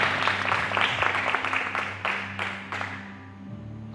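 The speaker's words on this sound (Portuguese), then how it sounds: "Veja a palavra e aplaude, por favor." A congregation claps during a church service, a quiet scattering of claps over a low, sustained tone, thinning out and fading after about three seconds.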